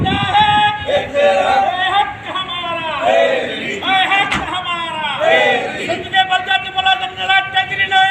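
Crowd of local government workers chanting slogans in unison, a leader's voice calling out and the group answering in loud, rhythmic shouted phrases, close and continuous.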